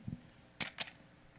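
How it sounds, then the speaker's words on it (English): A film camera shutter fires without its motor drive: two quick sharp mechanical clacks close together against a quiet room, with a faint soft thump just before. "The request is to hear this camera without the motor drive"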